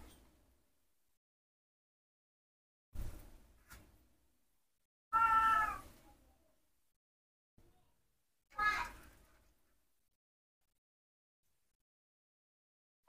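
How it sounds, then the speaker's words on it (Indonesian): A cat gives two short meows several seconds apart in a quiet room, with a few soft knocks and thumps in between. "Ayo, ada kucing tuh"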